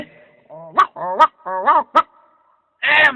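A cartoon dog barks in an animated folk tale, giving a series of five or six loud, close, stylised yelps and woofs, with gaps between them, that may be voiced by a performer.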